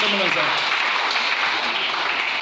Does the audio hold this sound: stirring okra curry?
no